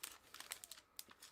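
A paper pad is handled up close, giving quiet, irregular crinkles and crisp rustles in short bursts with small pauses between them, and no one speaks.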